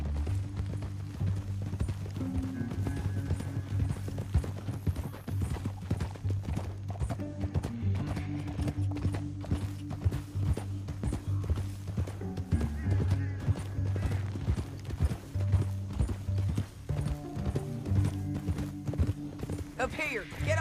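Horse hooves in Red Dead Redemption 2 clatter in a fast, continuous galloping rhythm, with background music and occasional voices over it.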